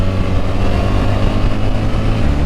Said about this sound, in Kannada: boxer engine